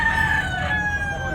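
A gamefowl rooster of Sweater bloodline crows loudly and close at a cockfighting derby in Tabunok, Cebu, one strained, sustained cock-a-doodle-doo.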